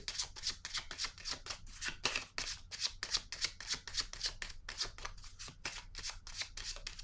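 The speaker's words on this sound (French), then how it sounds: "je vais piger une autre carte" Tarot cards being shuffled and drawn, a steady run of quick papery riffles and flicks close to the microphone, continuing without pause and with no voices.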